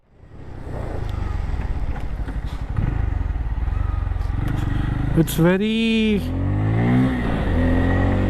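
Bajaj Pulsar N250 motorcycle engine running while riding at about 40 to 50 km/h, a steady close drone with wind, a brief rev rise near the end, under someone talking throughout.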